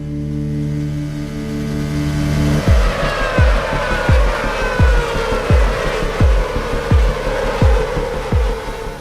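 Racing engines scream at high revs, with rapid repeated gear shifts and the roar of race cars running close alongside.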